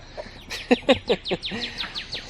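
Backyard chickens clucking close by in a quick run of sharp, choppy calls, one after another, with no talk over them.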